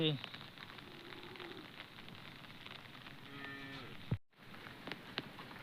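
Cows on a farm moo a few times at a moderate distance after rain, with a soft background hiss and a brief thump partway through.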